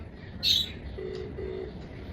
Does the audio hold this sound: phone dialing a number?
yes